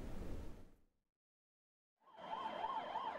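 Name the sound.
ambulance siren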